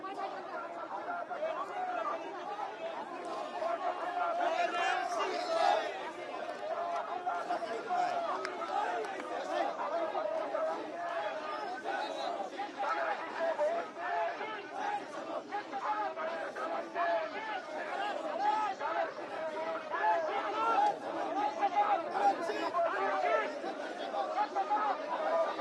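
Crowd of an election campaign procession in Dhaka, a continuous babble of many voices and chatter with scattered shouts, close and steady throughout.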